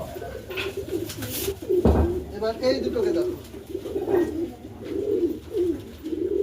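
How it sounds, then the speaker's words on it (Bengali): A female and a male domestic pigeon cooing at home, repeated throaty coos close by, with a person talking over them and a brief louder knock partway through. "যাও আন্ধার পায়রা দুটোকে জোর দিয়ে দিই আন্ধার এইটা হচ্ছে মাদি পায়রা আর এইটা নর"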